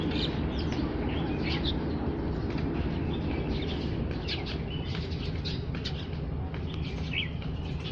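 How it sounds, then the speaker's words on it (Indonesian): Many birds chirp outdoors in the morning while food is shared with them. Scattered high chirps sit over a dense, steady wash of noise that never lets up. "Banyak burung pagi-pagi coy."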